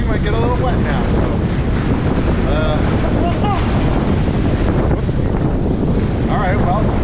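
Sea-Doo personal watercraft running over rough, choppy river water, with heavy wind buffeting the microphone and constant spray and engine roar, loud and continuous.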